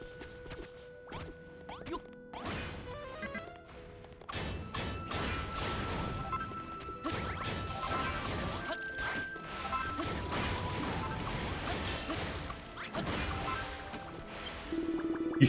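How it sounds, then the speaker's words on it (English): In Dragon Quest Builders 2, broken pieces fallen off a monster are smashed, giving a rapid series of crashing and whacking game effects with whooshes over a musical background, dense and steady for about fifteen seconds. "You smashed up all of them bits what fell off the master."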